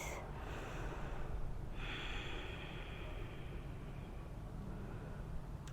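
Two soft, airy breaths during a Hatha-Vinyasa yoga session, one near the start and a longer exhale a moment later, both close and quiet over a low background hum, with no speech.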